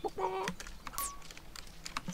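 Video-game chickens in Wylde Flowers give a few short, close clucks near the start, followed by scattered light clicks and taps over a low background.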